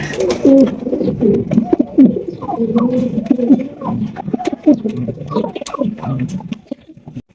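Pigeons, including blue bar beauty birds, coo repeatedly and overlap at a pigeon farm, close and fairly loud, with soft rustling and pattering between the calls.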